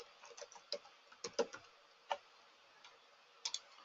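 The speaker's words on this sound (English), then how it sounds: "I'm just going to type brick," Keys tapped on a computer keyboard in short, quiet, irregular clicks, a few quick strokes in a burst followed by scattered single taps, close and faint with no voices.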